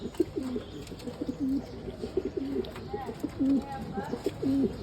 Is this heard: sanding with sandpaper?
no